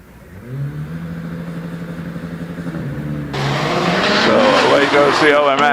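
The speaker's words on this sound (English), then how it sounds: "car coming up to the line now, 160, is Pete Tatham in the OMS 28" An OMS 28 hillclimb race car in the 1600 to 2 litre forced induction class accelerates up the Prescott course, its engine note climbing loud and near, rising in pitch through the gears, while a commentator talks over it.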